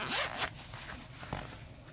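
A zipper on a knife's zippered carry pouch is pulled in a couple of quick, raspy strokes, close and fairly quiet, with no talking.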